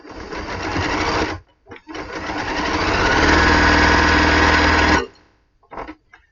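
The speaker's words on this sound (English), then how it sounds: "this is the Elna Excellent 720 Pro. We sewed on this last week too." An Elna Excellent 720 Pro sewing machine runs close and loud, stitching quickly with a rising whir for about four seconds before stopping, followed by a short quiet clatter.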